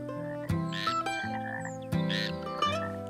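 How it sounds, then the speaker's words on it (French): Several toads croak back and forth in a small natural spot outdoors in an animated children's cartoon, with repeated voiced calls over a soft musical background. "Tu entends? Ce sont d'autres crapauds qui se parlent."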